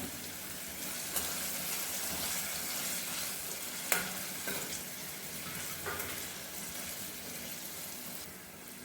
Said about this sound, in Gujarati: લસણ સેજ બ્રાઉન થાય ત્યાં સુધી આપણે સાંતળવાનું છે